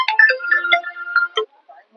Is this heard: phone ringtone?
yes